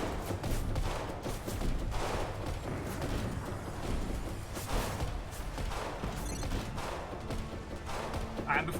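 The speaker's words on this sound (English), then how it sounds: "There's nice big chunky broadsides going" Warship cannon broadsides roar in a naval combat video game, a dense, continuous barrage of overlapping booms and blasts that fills the whole clip.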